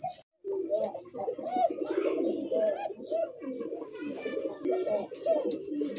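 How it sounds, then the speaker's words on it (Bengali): Pigeons at a market for fancy and racing breeds coo continuously in deep, throaty, rolling phrases, close and fairly loud, with other birds chattering faintly behind. "কোকা কবুতর ডাকে"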